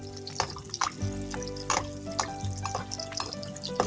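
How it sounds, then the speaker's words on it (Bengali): Egg fritters (egg boras) going one by one into hot frying oil, a sizzling, bubbling hiss with small splashes and clinks, close and continuous. "এখন আমি একটা একটা করে বড়াগুলি দিয়ে দিচ্ছি।"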